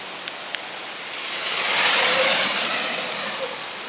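Sur-Ron electric dirt bikes, a 60V and a MaxClip model, accelerating up a hill with a rising and fading broadband whine and rush that swells mid-clip and passes fairly close, with no talk over it.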